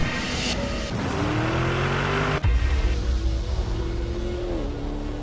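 A Lamborghini Urus SUV drives with a steady engine drone that rises in pitch, then shifts to a deeper, louder note after a gear change, heard close and continuous without talk.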